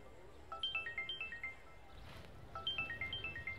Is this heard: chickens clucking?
no